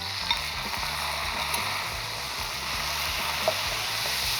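Fried rice tossed with sauce in a hot pan gives a steady broad sizzle with scraping and stirring scuffs throughout, fairly close and continuous, with no talk.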